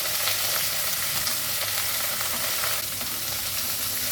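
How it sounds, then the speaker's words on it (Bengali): Capsicum and onion fry in butter for paneer butter masala, a dense, unbroken sizzle that holds steady and loud throughout, with no voices over it. "এরপর 1 চামচ বাটার দিয়ে ভেজে নেব ক্যাপসিকাম পেঁয়াজগুলোকে।"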